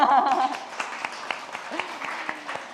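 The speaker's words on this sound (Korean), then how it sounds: "우리 학생들과 함께 박수 한번 쳐드릴까요?" Students and audience at an Incheon education office policy talk show applaud briefly in a short, moderate burst of clapping with a voice heard alongside.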